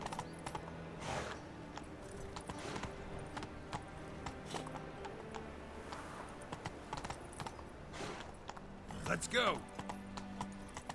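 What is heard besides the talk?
horse galloping in the video game The Witcher 3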